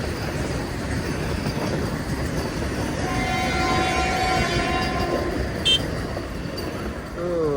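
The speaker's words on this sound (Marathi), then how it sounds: "अँड समोरनाच पास होते लोकल ट्रेन" A local train rolls past a railway crossing, a steady, loud rumble of rail noise with a brief high tone near the end, heard close by without talk.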